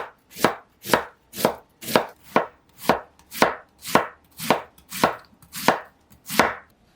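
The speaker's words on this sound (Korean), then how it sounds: "반으로 자른 다음 채 썰어 주시고요" Knife chopping halved red cabbage into thin strips on a board, about twelve evenly spaced crisp thuds in a steady rhythm, close and clear with nothing else heard.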